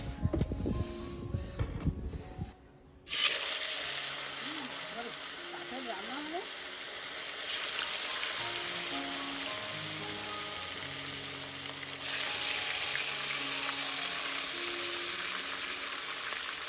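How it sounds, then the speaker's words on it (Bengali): Bhetki fish bones fry in a black wok over a lit stove, with a loud clatter at first, then a steady crackling sizzle that swells louder at intervals as the pieces are moved. "আগে একবার ভাজা হয়ে গেছে, আর ওই দেখো কড়া একদম লাল লাল করে কড়া করে ভেজে নিয়েছি।"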